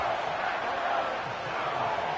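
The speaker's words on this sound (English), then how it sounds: "This crowd turning up the decibel level" A stadium crowd in a Madden football video game roars as a continuous, dense wash of noise, steady and fairly loud with no break.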